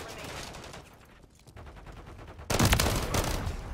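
Frag grenade and gunfire in a Call of Duty MW3 team deathmatch, a steady din of game combat noise that jumps into a loud, dense blast of explosion and shooting partway through.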